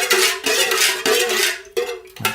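Scented candle wax stirred in a container, giving repeated scraping, clinking strokes of a utensil against the sides in a steady rhythm, close and clear with no talk.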